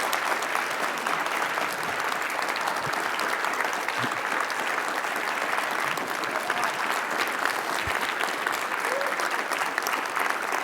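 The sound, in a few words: audience applause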